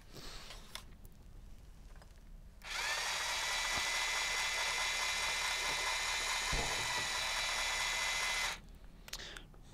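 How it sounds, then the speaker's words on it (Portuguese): A Parkside PP 1500 A1 hammer drill bores into wooden slats in hammer mode at speed 2, a loud, steady grinding whine lasting about six seconds, starting abruptly and cutting off, with quieter handling noise before and after. "E vamos ver, fazer aqui alguns furos, a ver como é que corre."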